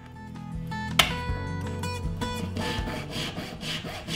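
A hand saw rasps steadily through wood while cutting dovetails, close and continuous, with a sharp knock near the start, and the strokes blur into a rough, even rhythm.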